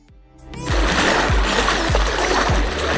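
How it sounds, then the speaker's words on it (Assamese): Someone wades across a clear, cold river on a Brahmaputra sandbar island. Their footsteps splash close by in a steady rhythm of about four strides against a constant rush of disturbed water. "ধুনীয়াকৈ খোজকাঢ়ি পাৰ হ'ব পাৰি এইখিনি"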